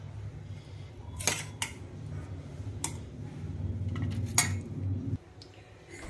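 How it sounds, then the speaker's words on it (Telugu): A spoon stirs cooked amaranthus dal in a metal pot, giving a few sharp clinks and scrapes against the pot over a low background hum, fairly close and with no talk. "ఈ ఉడికిన తోటకూర పప్పుని ఇందులో వేసుకోవాలి. చక్కగా కలపాలి."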